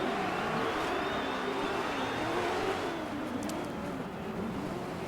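Four-wheel drive Land Rush truck engine in the racing game Dirt 4, a steady droning motor with shifting pitch that holds at an even loudness throughout, with no talk over it.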